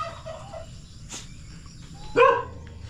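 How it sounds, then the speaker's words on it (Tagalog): A single short gobble rings out near the end from turkeys brooding inside an enclosure on a small farm, over quiet background noise. "May nagalimlim ng mga pabo dyan sa loob."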